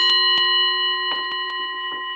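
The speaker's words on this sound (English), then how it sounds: "At the sound of the bell, we'll begin." A single bowl-like bell sounds to signal the start of a guided breathing exercise, its steady tone sustaining and slowly fading over two seconds, with a few soft knocks beneath and no talking.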